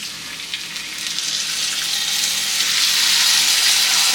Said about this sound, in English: while it's cooking, I actually like adding a little bit of water.